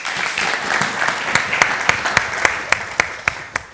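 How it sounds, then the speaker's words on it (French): A studio audience claps steadily in applause on a French-language talk show set in a café, with a few sharper claps standing out as it goes on and no voices over it. "Applaudissements pour Hamzi."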